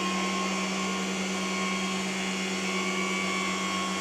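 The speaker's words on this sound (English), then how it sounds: "So I can lift up the fifth wheel up to 80 centimeters" A truck's hydraulic fifth wheel lifts under power, giving a steady, loud pump whine with fixed tonal hums that runs unbroken the whole time, with no talking.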